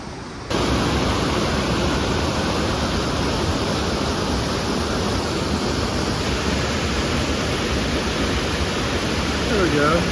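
Creek flowing below Nevada Falls in Yosemite, a steady, loud rushing of water that fills the whole clip without pause, close and constant.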